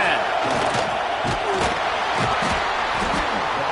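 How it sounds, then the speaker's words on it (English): A full football stadium crowd at an Auburn Tigers versus Bulldogs game roars in a loud, unbroken wall of noise, with occasional sharper shouts rising out of it. "This crowd, full throat, splitting the eardrums and letting them know it's going to be a long day."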